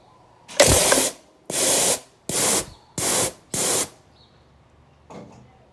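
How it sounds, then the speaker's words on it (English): Compressed air from a small bottle blown through an MG TD fuel line, heard as five loud, close hissing bursts of about a second each with short gaps, then a fainter short puff. "So I'm gonna blow it out with some air."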